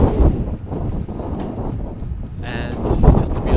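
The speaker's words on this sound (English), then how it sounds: "it's quite windy" Strong wind buffets the microphone on a warm coastal day near the Twelve Apostles, a steady rushing roar with gusty surges, heard alone without talk.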